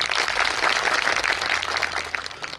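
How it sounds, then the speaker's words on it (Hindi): An audience at a political rally applauding, a dense wash of clapping from many hands, sustained and fairly loud for a few seconds, then tapering. "इनके लिए तालियां बजाओ एक बार"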